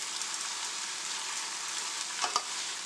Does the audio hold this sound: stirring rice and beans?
yes